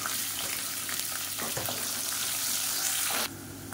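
Long-sliced large onions sizzle and crackle in a hot pan, a steady hiss of frying with a few brief stirring scrapes.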